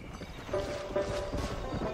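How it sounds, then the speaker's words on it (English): Hooves clatter in a quick galloping rhythm from a flaming undead horse in the Red Dead Redemption Undead Nightmare video game, close and fairly loud with a faint whinny mixed in. "Where did our flaming horse of doom go?"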